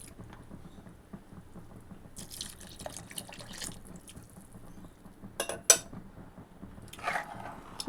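Water poured into a pan of simmering chhole (chickpea curry) being cooked for chhole bhature, coming as a few short splashy bursts over a low, steady kitchen background, with the loudest splash near the end.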